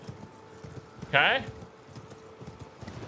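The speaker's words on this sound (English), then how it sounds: "You just hear the horse die." A horse in the Elden Ring video game lets out a short, loud neighing cry as it dies, with light game sounds around it and a person speaking briefly.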